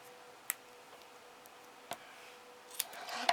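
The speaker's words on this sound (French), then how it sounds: "Je vais couper le superflu là." Scissors make a few brief, sharp snips at spaced intervals while trimming excess material on a handmade large box, quiet and close with no talking.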